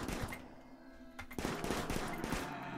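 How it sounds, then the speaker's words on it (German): Gunfire in the colony-building game RimWorld, a quick run of sharp shots with a brief lull, then a denser burst of rapid cracks, fairly quiet overall with no talk. "So, jetzt darf Malikus auch mal ein bisschen schießen."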